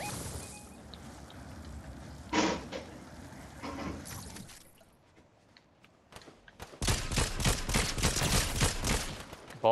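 Fortnite gunfire crackles in bursts, a lone shot early then a dense rapid volley near the end, all fairly close and loud.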